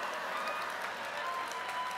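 An audience applauds at a California Democrats event, a steady dense wash of clapping heard from a distance, fairly quiet, with no one speaking over it.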